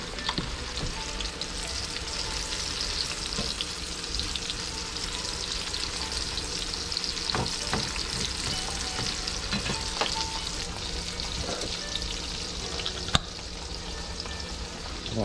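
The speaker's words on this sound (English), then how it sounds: "We're gonna cook our mushrooms." Mushrooms fry in a hot pan with a steady, dense sizzle, broken by occasional utensil scrapes and taps as they are stirred, close up with no talking.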